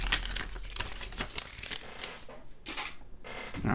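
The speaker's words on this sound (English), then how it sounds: "let me go ahead and open up this black case here" Black Ringke slim case for a Samsung Galaxy Z Fold 4 being unpacked, with close crinkling and rustling of packaging and a few sharper tearing bursts running continuously, no voice.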